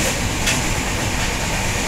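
A passenger train bound for Udupi runs along with a dense, constant rumble and wash of noise, heard from on board. It is loud and unbroken, with no voices.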